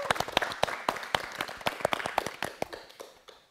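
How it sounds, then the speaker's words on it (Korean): A small group claps for a music student about to perform, sparse and distinct handclaps at a quick uneven rhythm, fairly close and quiet, tapering off after a few seconds. "박수 주세요."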